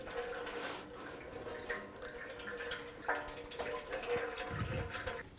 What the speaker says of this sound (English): Just drain that coolant out.